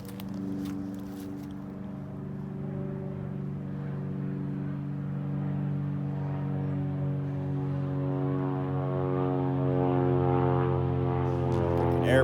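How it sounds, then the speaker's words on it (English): A propeller airplane drones overhead above a backwoods survival camp, a steady, humming engine tone that slowly builds in loudness over about twelve seconds. "it's quiet back here except for them airplanes, but they're very loud"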